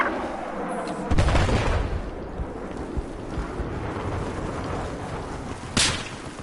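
Gunfire in a Battlefield 4 combat match: sharp, loud shots ring out near the start and again near the end over a dense, rumbling battlefield bed.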